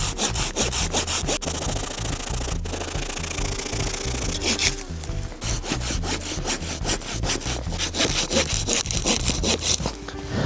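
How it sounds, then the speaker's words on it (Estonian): Hand saw cutting through a fallen, broken spruce trunk in a snowy winter forest, rapid rhythmic back-and-forth strokes rasping loudly and close, with a brief pause midway before the sawing resumes. "Mul on siin, näed, mahagi murdunud üks kuusk. Et sedagi saab, kui jaks on, siis saab saagida."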